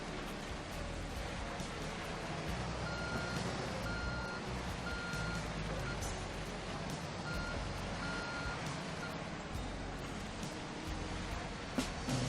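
Truck reversing beeps from the Construction Simulator 2 game, a regular series of evenly spaced electronic tones over a steady engine and ambient rumble, with no talking.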